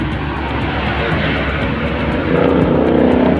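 A motorcycle with a modified exhaust pipe rumbles and revs with a throaty, uneven exhaust note, close by, rising slightly toward the end.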